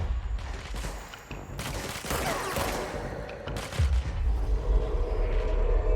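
Enemies in the video game Control fight each other with bursts of gunfire and heavy booms, a loud, close barrage that swells and stays dense through to the end, with no talking.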